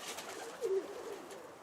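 A soft bird coo sounds once, brief and fairly close, over a quiet outdoor hiss; no one speaks.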